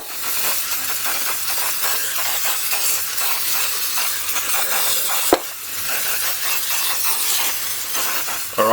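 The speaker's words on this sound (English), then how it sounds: "I've hit it with the contact cleaner and then also just some penetrating lubricant" Contact cleaner sprayed onto a jet ski part, a steady close hiss of aerosol spray running almost continuously, briefly broken by a sharp click midway before the hissing resumes.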